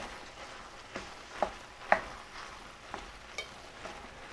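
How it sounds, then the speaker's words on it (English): Sticky Japanese rice being broken up and mixed in a pan with the heat off, a quiet soft background crackle punctuated by several sharp spatula taps and scrapes at irregular intervals. "Just kind of chopping and mixing in the liquid"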